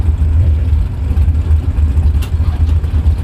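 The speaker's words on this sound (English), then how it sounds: "Michael Carpenter's machine rocking the classic Orla mufflers." A drag racing car fitted with classic Orla mufflers rumbles loudly and close at a bracket event, a deep pulsing engine throb that rises and falls in steady waves with no talking.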